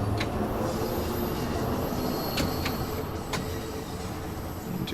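London Underground Bakerloo line train pulling away from a platform toward Waterloo in Train Sim World 2, a steady broadband rumble of motors and wheels on rail with a few sharp clicks and clanks over it, loud and continuous.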